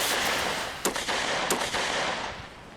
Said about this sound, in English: soldiers fired flare guns and rifles in a desperate attempt to warn those living downstream